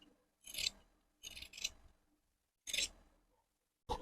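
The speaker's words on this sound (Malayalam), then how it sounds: "അധികം നിൽക്കുന്നതെല്ലാം നമുക്ക് കട്ട് ചെയ്ത് കളയാം." Scissors snip through excess nighty fabric in three short, faint bursts of close cutting with pauses in between, no voices.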